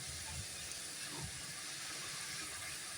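Moong dal sankarpali pieces deep-frying in hot oil, a steady dense hiss and bubbling sizzle running unbroken throughout with faint low bumps, nearby and fairly loud.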